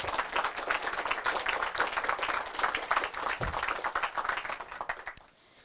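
Crowd applause at a Senate campaign announcement, dense clapping from many hands at an even level, with a brief low thump partway through, then fading quickly at the end.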